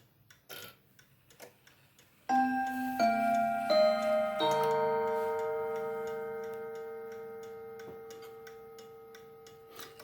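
A 1950 Seth Thomas mid-century mantel clock with Westminster chimes ticks softly from the front, then a sequence of clear chime tones rings out and slowly decays under continued faint ticking.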